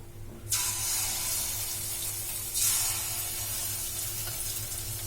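Spoonfuls of bonda batter hitting hot frying oil, a loud bubbling sizzle that swells as each portion goes in, with a second surge partway through and steady frying between.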